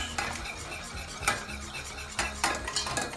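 Baked macaroni seasoned with grated nutmeg being stirred in a pan: several distinct scraping strokes and clinks of a utensil against the metal over a faint sizzle, fairly quiet and close, without speech.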